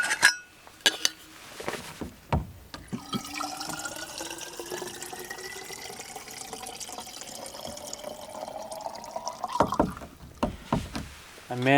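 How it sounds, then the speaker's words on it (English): Water glugs and pours steadily from a jug into a bottle, the pitch rising as it fills, with clunks of plastic at the start and end, while camping in a car in the mountains. "I'm going to refill my waters."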